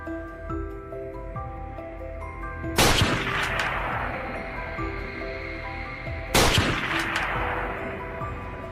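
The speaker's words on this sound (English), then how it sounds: "The sound of gunfire frightened the wild boars" Two sharp hunting gunshots at wild boars ring out a few seconds apart, each loud and close with a short echoing tail, over quiet outdoor background.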